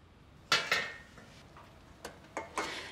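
Dishes and utensils clattering during home cooking: a few sharp clinks and knocks, two close together at the start and three more spaced out later, against a quiet room with no talk.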